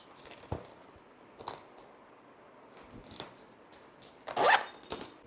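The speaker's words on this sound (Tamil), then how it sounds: "பேக்லேயும் வந்து பார்த்திங்கன்னா நமக்கு ஒரு ஜிப் வந்து கொடுத்துருக்காங்க." A zipper opens on the back of a handbag in a quiet room: a few short scratchy pulls and small handling clicks, ending in one louder, longer zip near the end, close and alone.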